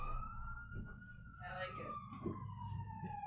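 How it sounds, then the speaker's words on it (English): An ambulance siren wails past outside, a gliding tone that falls slowly in pitch while people talk nearby over low background noise. "There's the ambulance just in time."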